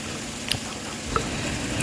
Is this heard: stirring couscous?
yes